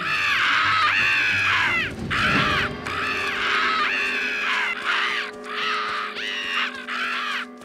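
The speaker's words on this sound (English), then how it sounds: "No wonder the crows didn't follow me." Cartoon crows caw loudly in a repeated run of harsh, rasping calls, one after another, with a brief rustling scuffle partway through and a steady low tone underneath.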